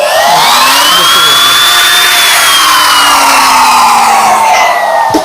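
An electric woodworking machine whines loudly and close, its motor pitch climbing steadily as it speeds up from a slow run, then easing slightly near the end.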